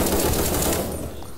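Rapid automatic gunfire from Krunker, a first-person shooter game, rattles loudly and continuously at the start, then thins and fades toward the end of a short burst.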